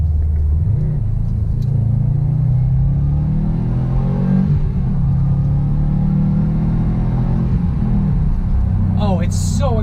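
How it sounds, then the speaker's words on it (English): A 2018 Subaru STI with turbo pulls under hard acceleration, its engine rumbling loudly and rising steadily in pitch over about ten seconds, heard from inside the car, with someone talking briefly near the end. "So I'm going to give myself a bit of space so we can get a proper acceleration with the 2018 STI."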